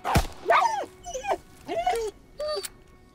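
Dog in the Call of Duty: WWII video game, set in the Hürtgen Forest, giving a sharp yelp and then a series of whimpering, moaning cries, close and clear with no talk.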